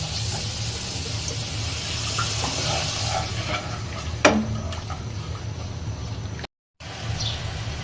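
Spices stir-fried in a karahi for khichuri, a low steady sizzle with faint scraping stirs and a single sharp clink of a utensil, heard close with no talk.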